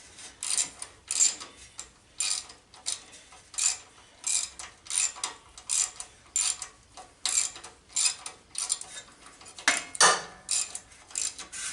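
A ratchet tightens bolts on the aluminum-mounted muffler of a riding mower that burns oil, giving rapid clicking bursts in a regular rhythm of short strokes, close and clear with no talk.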